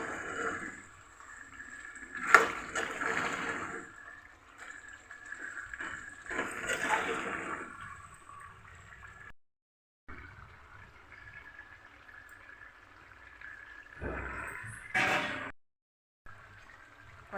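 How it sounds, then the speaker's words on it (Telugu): Water pours into a pot of chicken curry in a home kitchen, a running splashing stream that comes in several bursts with short quiet gaps between them, heard close up. "కొంచెం అయితే వాటర్ అయితే పోసుకోవాలి."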